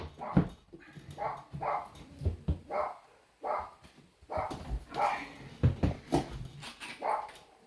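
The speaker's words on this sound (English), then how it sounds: "the dogs barking out there at something" Dogs bark outside in a series of short, repeated barks with a few yips, heard at moderate distance and fairly faint, with no speech.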